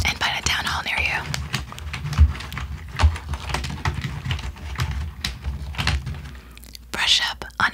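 Soft clicking of fingers typing on a computer keyboard runs in quick irregular bursts beneath close, continuous whispering.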